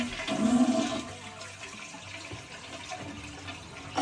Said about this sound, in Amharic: ውሃውን ፍለሽ አድርጉት።